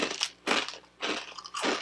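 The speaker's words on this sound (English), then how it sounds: "They're a little bit crispier than normal rice crackers that we get." Yoshimura kelp rice crackers, crisp senbei-style snacks, are bitten and chewed in four distinct close crunches spaced about half a second apart.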